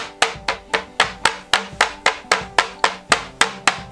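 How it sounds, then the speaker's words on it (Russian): Steady, evenly spaced pounding of a meat mallet on pork cutlets, about a dozen sharp thuds in a row, close and loud with no talk. "Отбиваем обычным молоточком."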